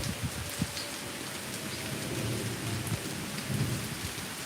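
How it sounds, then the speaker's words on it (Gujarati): Heavy rain pours down steadily over a village in Devbhumi Dwarka, a dense, even hiss of falling water with low rumbling underneath and no voices. "દેવભૂમિ દ્વારકાના ગામડાઓમાં વરસાદ ચાલુ છે"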